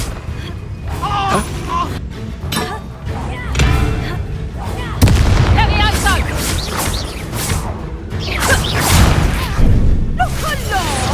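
Fiery Confringo spell blasts in Hogwarts Legacy burst as repeated booming explosions with whooshes, mixed with combat effects and shouted character voices over the top.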